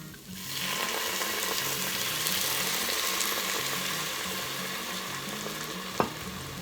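Apothic Dark red wine poured into a hot pan bursts into a loud, sustained sizzle that holds steady and close, with a single sharp clink of a utensil near the end.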